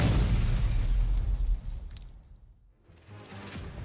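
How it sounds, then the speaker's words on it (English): Explosions and gunfire in the Girls' Frontline 2: Exilium video game, a loud blast rolling out into a fading rumble, then a brief quiet before another burst of sound rises. "the sound of more gunfire and explosions come from the other side of the rubble"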